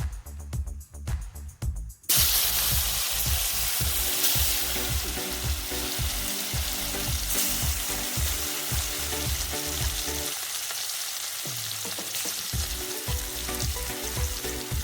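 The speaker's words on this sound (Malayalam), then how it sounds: "എണ്ണ ഏകദേശം ചൂടായിട്ട് നമുക്ക് അതിലേക്കിടാം." Anchovies for a green-peppercorn fry hit hot coconut oil after a brief quiet start, then crackle in a loud, continuous close sizzle with occasional stirring and no voices.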